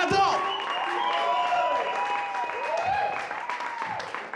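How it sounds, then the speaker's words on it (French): An audience at a stand-up comedy show in Ottawa gives a warm welcome to an improv performer. Clapping blends with rising and falling whoops or tonal cheers and fades slightly toward the end. "J'aimerais qu'on l'applaudisse chaleureusement."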